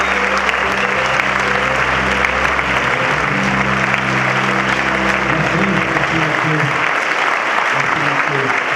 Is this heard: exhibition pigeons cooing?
no